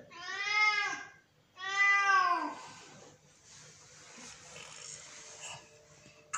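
A cat gives two loud, drawn-out meows close by, then quietens to faint rustling background noise.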